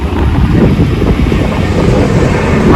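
Strong wind buffets the microphone on an island's crystal walkway, a loud, continuous low rumble with gusty swells and no clear voices.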